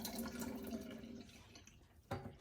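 Rinse water being poured off washed rice, a continuous splashing trickle that fades slightly before a short renewed gush near the end.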